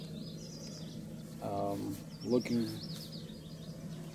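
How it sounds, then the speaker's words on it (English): Birdsong at a riverside campsite along the Green River, a few high chirps and trills rising now and then over a low steady hum, with a voice speaking briefly in the middle. "listening to the birds sing"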